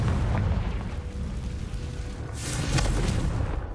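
Explosive blast of the Confringo spell in Hogwarts Legacy, a dense rumbling burst that swells again near the end, fairly loud and continuous with no talk over it.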